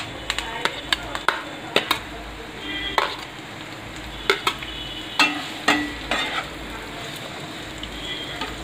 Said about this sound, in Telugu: ఇప్పుడు ముందుగా మనం ఆయిల్ ఎక్కింది కదా, ఉల్లి చెక్క వేసుకుందాం.